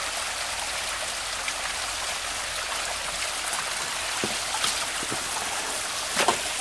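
Creek water trickles and gurgles as it flows underneath rocks, a constant soft rush with small splashing drips breaking through near the end, close and alone with no talk.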